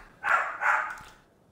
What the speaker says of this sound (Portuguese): Para de me latir.